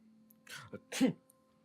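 A single short sneeze, close by, with a quick breathy lead-in before the sharp burst, in an otherwise quiet moment.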